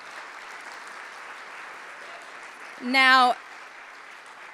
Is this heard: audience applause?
yes